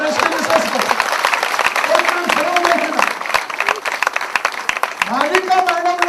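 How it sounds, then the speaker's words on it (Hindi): Audience applause and cheering at a network marketing event, rising under a loud voice speaking Hindi over a microphone, with dense clapping throughout. "जोरदार तालियां परेश की मिसेस को"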